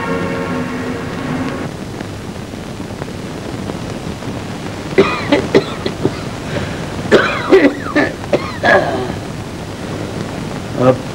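A short cluster of harsh coughs bursts out partway through, close and fairly loud, after a stretch of low murmuring background noise.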